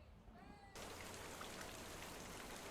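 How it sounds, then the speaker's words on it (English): Steady rain falls in a town, a dense even hiss that starts abruptly after a faint cat-like mew and continues without pause. "It is raining now."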